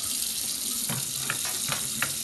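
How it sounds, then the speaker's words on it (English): Warm water runs steadily from a tap over a cracked ice luge, a continuous close splashing rush with a few brief gurgles and drips breaking through, no voices. "Run some warm water over your crack area and even around the back down to the crack"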